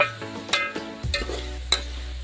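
A spoon scrapes and stirs spices in a frying pan over a low sizzle, with a few sharp metal taps against the pan.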